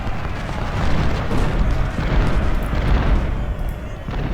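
Artillery cannons in the Civil War strategy game Ultimate General: Civil War fire in a dense, continuous roll of heavy booms and rumbling blasts, loud and sustained throughout with no pauses.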